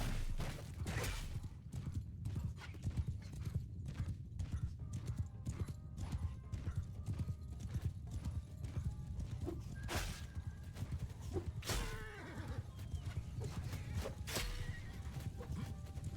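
In a Mount and Blade II: Bannerlord battle, massed horse hooves clatter in a dense, continuous rumble while several horses neigh and whinny at intervals over distant battle noise.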